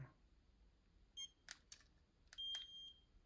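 A 2019 Mazda 3 remote start key fob beeps as its buttons are held to change the run time, giving short, distinct electronic beeps in a quiet room: one brief tone, then a longer steady beep after a pause.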